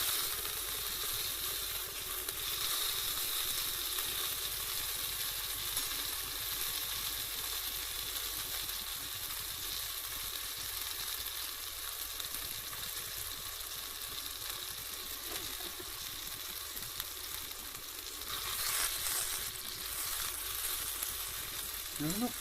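Breakfast sizzles steadily in a fuel cell pan on an outdoor stove, a continuous close frying hiss with occasional faint stirring, and no talk over it.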